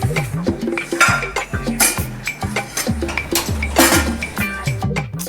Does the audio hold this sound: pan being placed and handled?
yes